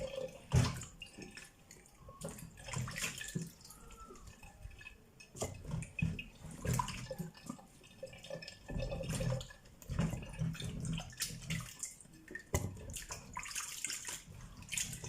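Vegetables washed by hand under a running kitchen tap with vinegar: steady water splashing and trickling with occasional clinks of a bowl or dish, close and moderately loud, with no talking.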